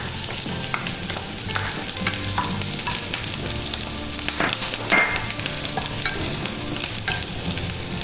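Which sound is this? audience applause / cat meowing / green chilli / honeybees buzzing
green chilli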